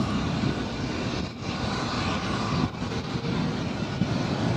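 Jet engines of a diverted MD-11 airliner at the airport, a steady broad roar that holds loud and unbroken throughout with slight swells, probably the aircraft starting up or spooling for takeoff, mixed with wind.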